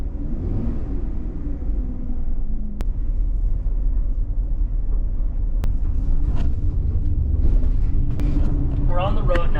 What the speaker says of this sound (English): We're on the road now, we're driving a bit.